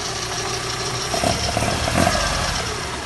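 A Volkswagen Golf Mk1 Cabriolet with a 2.0 16-valve engine conversion idles warm and steady, a continuous close mechanical hum with a slight uneven chug underneath and no talking.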